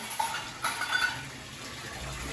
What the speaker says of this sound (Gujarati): અહીંયા પાણીનો અવાજ બહુ જ્યાદો આવે છે